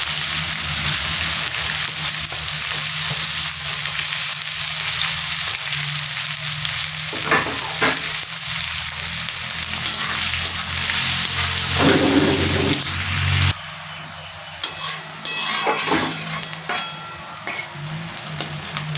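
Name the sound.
onions frying in a pan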